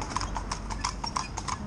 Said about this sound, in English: She's trotting up alongside us as we go here.